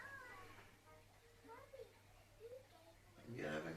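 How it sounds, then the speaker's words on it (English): A house cat named Crowley gives a few soft, rising meows indoors, spaced out over a low background hum, ending in a louder, brighter call near the close. "Sniffy kitty."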